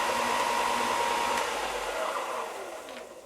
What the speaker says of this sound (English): With the sander running, you're hearing the same amount of sound from the sander as you are from me.